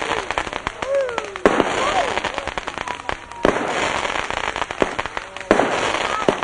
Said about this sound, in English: We are watching Diwali fireworks from the Navi of the world.